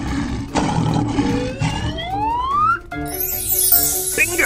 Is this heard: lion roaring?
yes